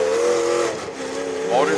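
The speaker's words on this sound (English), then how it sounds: "Motor's feathering on Board's car." A demolition derby car engine feathers and sputters under throttle at an outdoor arena, a wavering, uneven drone that dips and rises with a hissy, strained edge, under crowd and announcer noise.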